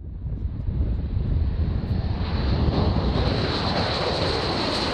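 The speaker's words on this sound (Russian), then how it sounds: "Ну а пока Яки гордо и с полным баком покинули бобруйскую землю." Yak military aircraft at an airfield in Bobruisk take off with a rising engine roar, a broad, loud rushing drone that swells and holds steady with wind buffeting.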